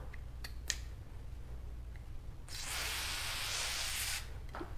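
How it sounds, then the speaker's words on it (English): A steady hiss of WD-40 aerosol spray lasting about two seconds, preceded by a few faint clicks and rattles, close by in a quiet room near a car. "I'm going to spray it over here away from the car."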